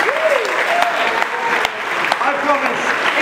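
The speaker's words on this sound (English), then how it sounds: "Give Billy Wood a round of applause" A crowd at a British wrestling show claps in a sustained round of applause, with shouts and cheers rising over the clapping throughout.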